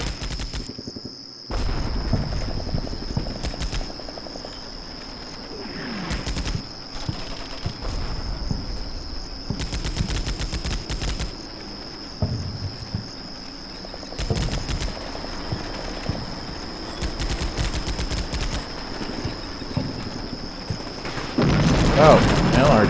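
Booming explosions and scattered gunshots from a tank battle in Combat Mission Shock Force, a village fight with armored forces, come as repeated broadband bursts over a steady high ambient hum, with game voices faintly present.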